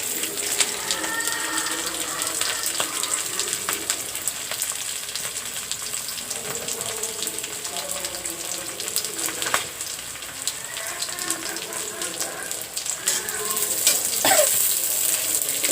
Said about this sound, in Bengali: এবারে শুকনো মরিচ, কাঁচামরিচ ও রসুন ছেঁচানো আমি ভেজে নেব।